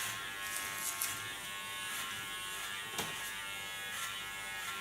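An electric hair clipper buzzes steadily while cutting short hair on a woman's head, held on its side against the scalp. The hum is faint, with small bumps in level.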